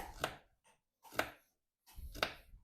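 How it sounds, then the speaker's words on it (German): A knife chops carrots into small cubes on a cutting board while preparing pizzoccheri: three crisp, close chops spaced about a second apart, with quiet gaps between and no talking. "Zuerst werden wir die Karotten klein schneiden, in kleine Würfel"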